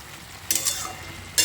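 Green chillies dropped into a frying stalk-poppy curry, a steady low sizzle with two brief louder bursts of stirring and crackle near the start and the end.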